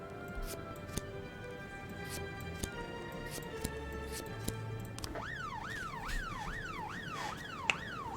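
An ambulance siren wails in the video game This Is the Police, faint and distant at first, then a rapid rising-falling yelp takes over, under steady ticking and a low musical hum.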